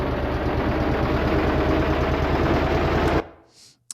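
Portable generator starting-up sound effect, a loud rapid chugging engine rattle with rising pitch that runs steadily, then cuts off abruptly, leaving a faint short tail.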